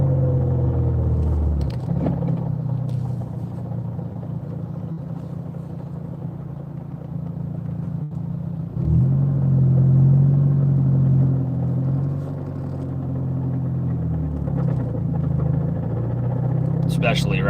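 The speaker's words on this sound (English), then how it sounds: "Pretty sure you can hear that rattling at lower speeds." A Volkswagen GTI rumbles along at low speed with a steady engine and road drone, and a faint rattle shows up over the low hum. Someone talks over it at times, and the rumble swells partway through.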